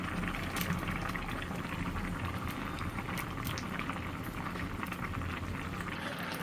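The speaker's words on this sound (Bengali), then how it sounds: "তো এখন তরকারিতে মাছগুলো দিয়ে দিই।" A pot of fish curry with vegetables bubbles and simmers steadily, a continuous close boiling hiss with small popping bursts and no pauses.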